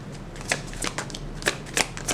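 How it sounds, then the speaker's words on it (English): Tarot cards being shuffled by hand, a few quick close riffling bursts separated by softer card rustles. "Let's pull some more cards."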